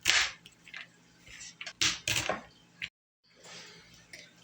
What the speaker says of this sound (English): I have my little chopper here, and I'm just going to start chopping.